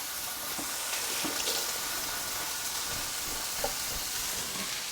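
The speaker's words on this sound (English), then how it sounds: "Oh, it's sizzling. That's what it should be doing." Soft, steady sizzling from steak frying in a hot pan, a constant crackling hiss with a few faint clinks.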